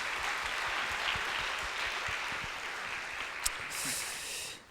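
Applause from a church congregation encouraging children at a summer revival meeting: a quiet, somewhat distant patter of many hands, sustained and fairly even throughout, with a small sharp knock near the end.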